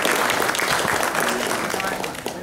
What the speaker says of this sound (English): I'd like to give a round of applause to Craig Yeo